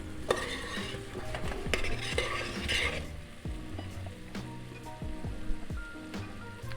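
Vegetables cooking gently in a wide pan, a soft bubbling sizzle broken by repeated clinks and knocks of utensils during nearby prep work, with no voices.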